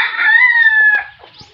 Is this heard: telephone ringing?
no